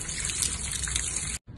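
Tap water runs steadily into a kitchen sink while shrimp are rinsed, a close, bright hiss and splash that stops abruptly for a moment before starting again.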